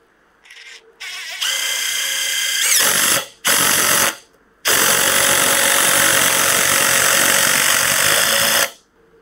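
A power drill drives a full-thread screw in loud, close whirring bursts: a few short stop-start pulses, then one long sustained run lasting about four seconds.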